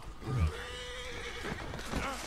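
A horse in Red Dead Redemption 2 lets out a loud, shaky whinny, followed by faint hoof clip-clops and game ambience, with a voice briefly in the background.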